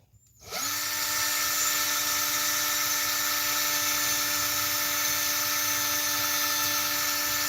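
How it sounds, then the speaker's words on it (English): A small power tool spins up and whines at a high, steady pitch while polishing a little bolt stud in a speed shop, loud and close, running continuously after a short start. "Do a little polishing here on that. Polished the little bolt stud here."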